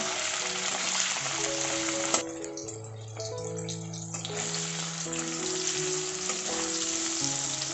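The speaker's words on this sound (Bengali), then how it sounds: "প্রথমে আমি পনিরগুলোকে ভেজে নেব পনিরগুলোকে একটু লাল করে ভেজে নেব" Cubes of paneer fry in hot oil with a steady, close sizzling hiss that runs throughout, with background music playing underneath.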